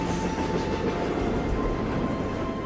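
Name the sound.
passing train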